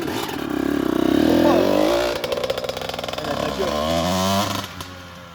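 A KTM 250 SX dirt bike engine revs hard and loud up close, with rising and falling pitch that holds high and then drops back. People talk over it.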